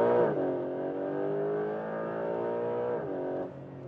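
A Porsche 911 GTS Hybrid engine drones steadily, then the accelerator is released and a pressure-release valve opens, with the engine tone dropping away near the end.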